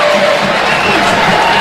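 Stadium crowd at a Georgia vs Auburn college football game, a loud, continuous roar of cheering with no breaks, filling the space evenly.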